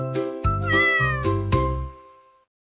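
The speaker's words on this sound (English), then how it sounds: "C for cat." A cat meows several times in a row, close and clear, with drawn-out tonal cries that fade away at the end.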